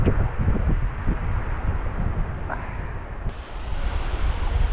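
Waves rolling onto a beach make a steady, loud wash of surf mixed with heavy wind buffeting the microphone. The noise runs continuously, with no voices.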